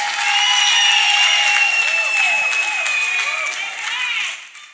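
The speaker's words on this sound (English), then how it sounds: "Can you clap for Master Jesus?" A church congregation breaks into sustained applause during a testimony service, loud and dense at first and then easing away near the end.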